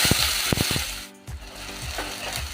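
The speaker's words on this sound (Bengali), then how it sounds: "ফোড়ন ফুটে উঠেছে, এবার দিয়ে দেবো পেঁয়াজ বাটা।" Onion paste frying in a pan with bay leaf, cinnamon, cloves, cardamom and cumin, giving a close crackling sizzle broken by a few rhythmic clattering knocks of a utensil.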